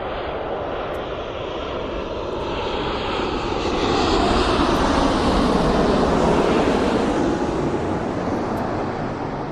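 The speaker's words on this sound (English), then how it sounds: "And as that TUI comes into land" A TUI airliner comes in to land at East Midlands Airport, its jet engines a broad, steady roar that swells slightly as it passes, loud and continuous with no voices.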